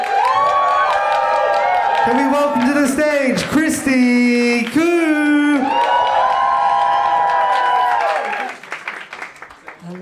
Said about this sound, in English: let's slowly raise that to a roaring applause